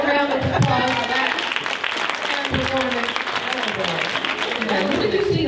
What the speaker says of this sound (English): Do we have a round of applause for that?